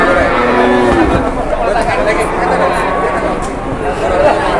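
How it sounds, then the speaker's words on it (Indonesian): Jumbo cattle gathered at a weighing, with occasional low moos and shuffling amid a busy crowd of chattering people, voices dominating throughout at close range. "Sapinya jumbo-jumbo nih yang ditimbang"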